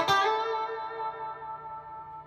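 A basic blues lick in A on electric guitar: one bent note rings out over effects and reverb, then sustains and slowly fades, with no talking.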